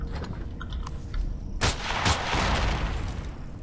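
Gunfire bursts out in Empyrion Galactic Survival, first quieter shots, then loud, sharp cracks with sustained rattling fire and booming echoes that fill the rest of the moment.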